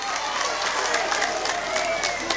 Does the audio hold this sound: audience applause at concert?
yes